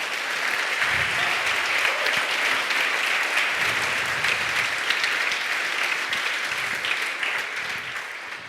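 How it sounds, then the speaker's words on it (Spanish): A church congregation breaks into strong, sustained applause during a Spanish-language service, a thick, steady crackle of many hands lasting over eight seconds. "Ahora sí le invito a que le dé un fuerte aplauso al Señor"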